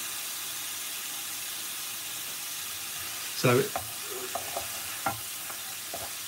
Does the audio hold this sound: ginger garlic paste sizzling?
yes